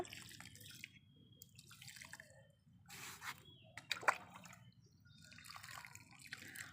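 Water dripping and trickling as potted flowering plants are watered a little at a time outdoors, with soft intermittent drips and splashes over faint background noise.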